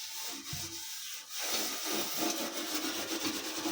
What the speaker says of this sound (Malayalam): ഇതുപോലെ തന്നെ നമുക്ക് ഇതും തേച്ച് കഴുകി കൊടുക്കാം